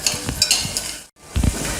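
Chopped onions sizzling and being stirred in ghee in a hot pan, with scraping spoon strokes, a brief pause, then more stirring and frying close by.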